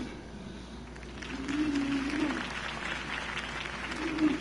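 Crowd applause in a PS4 video game swells and continues under a voice, with murmuring and occasional cheers mixed into the clapping.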